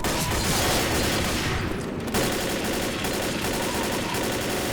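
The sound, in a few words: gunfire shooting down a barricade in the video game Left 4 Dead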